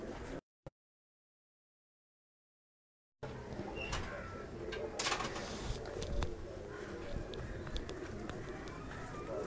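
Pigeons coo at a high-flying pigeon breeder's loft, soft murmuring calls over a busy, rustling outdoor background; the first few seconds are nearly silent before the sound picks up.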